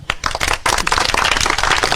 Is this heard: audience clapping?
yes